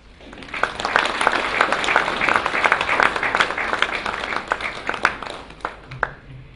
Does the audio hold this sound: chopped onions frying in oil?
no